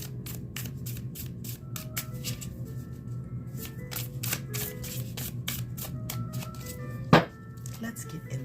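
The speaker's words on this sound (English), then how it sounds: "2 more shuffles" Tarot cards riffled and shuffled by hand in quick rapid bursts, close and moderately loud over a steady low background hum, with one sharper thump near the end.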